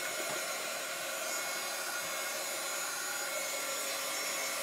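A hair dryer blows steadily on a Chalk Couture transfer, a constant close whooshing hiss that holds unchanged for the whole stretch with no voices.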